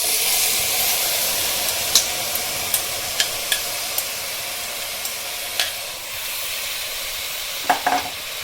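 Washed spinach hits a pan of frying onions, bringing a loud, steady sizzle and hiss with scattered scraping clicks of a spoon stirring the leaves at close range.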